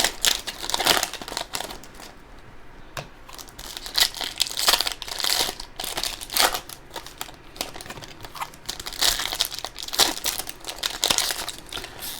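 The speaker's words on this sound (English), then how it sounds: "then you gotta like rip the pack open in a weird," Foil trading-card packs from a football card box break get ripped open up close, with rapid crinkling, crumpling and tearing bursts repeating steadily with no talking.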